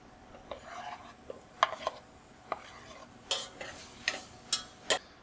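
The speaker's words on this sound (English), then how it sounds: "Now I'm going to add the tomatoes to the pan." Fresh tomatoes are stirred into a pan for spaghetti sauce, with a run of close clinks and scrapes of a utensil against the pan that grow busier toward the end, over a faint sizzle, with no talking.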